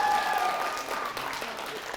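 A studio crowd at a high school quiz show applauds steadily, with dense clapping and faint cheering throughout.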